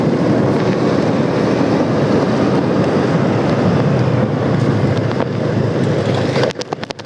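Strong wind blowing across a microphone on a road near Kalibatur village in Tulungagung, a loud steady roar filling the whole clip, briefly easing with a few gusty buffets near the end.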